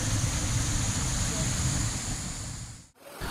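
Kutuk-Kutuk waterfall on Bawean island pouring into its pool, a steady dense roar of falling water, loud and continuous, cutting off abruptly near the end.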